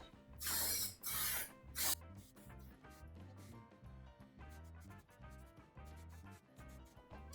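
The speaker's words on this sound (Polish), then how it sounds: "To są takie mm, te duplicolor te spreje. Są całkiem niezłe i śmierdzą tak straszliwie jak na przykład spray do samochodu." A Duplicolor spray paint can hisses in three strong bursts over roughly two seconds, loud and close, followed by quieter background sounds.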